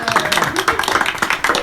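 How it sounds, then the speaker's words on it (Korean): A small group of people claps and applauds in a quick, uneven patter of close, sharp hand claps lasting under two seconds. "사람들이 기뻐서 박수를 치고 있습니다"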